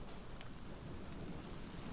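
Steady heavy rain pours down through a dark flooded night, with a low rolling rumble of thunder underneath, loud and unbroken from start to finish.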